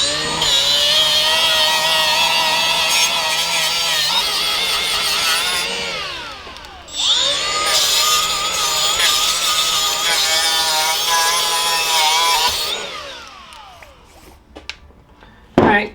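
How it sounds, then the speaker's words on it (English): Rotary tool with a plastic abrasive wheel cleaning an engine block, a loud steady high whine with grinding texture running about six seconds, a brief spin-down, then a second long run before it winds down near the end. "It's a plastic abrasive wheel on my rotary tool here."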